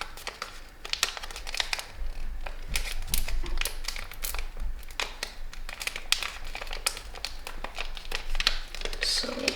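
Paper being folded for an origami flamingo gives close, irregular crinkles, creases and light taps, with brief scraping bursts scattered through the handling and a voice talking faintly in places.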